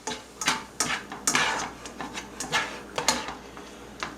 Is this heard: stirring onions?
yes